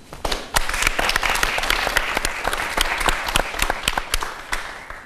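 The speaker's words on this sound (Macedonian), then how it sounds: "А ние ќе ти даеме и аплауз." An audience bursts into dense, sustained applause, with many hands clapping loudly and steadily throughout.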